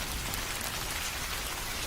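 Rain falls steadily at night during a stormy evening, a dense, even hiss of drops with no breaks and no voices.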